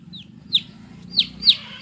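A day-old chick hatched under a broody hen gives high thin peeps, three or four sharp chirps over a low murmur of background noise.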